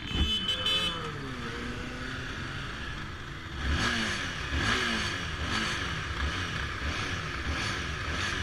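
A Honda CBR250 motorcycle revs and accelerates on a group ride, its engine note climbing in repeated sweeping pulls, loud and near, with steady engine drone between rises.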